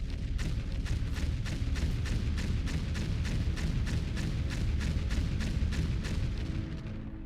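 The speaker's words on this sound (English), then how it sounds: "There were many explosions and then we hit the ground." A rapid, evenly spaced barrage of booming explosions from an orbital laser fired straight down in the video game Foundry, loud and relentless, each blast rolling into the next before the run fades out.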